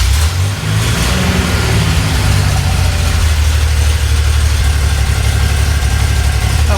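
A Land Rover Lightweight engine idling smoothly and steadily, a loud, close, low rumble that holds constant throughout with no voices.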